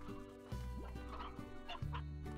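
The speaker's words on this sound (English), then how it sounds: "Quick, move all the chickens to Ogden's place for the lols." Chickens clucking in a Slime Rancher-style video game: several short, close clucks layered over steady, tonal game music, with no talking.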